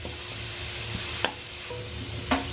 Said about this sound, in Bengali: পেঁয়াজটা একটু লাল লাল করে ভেজে নিতে হবে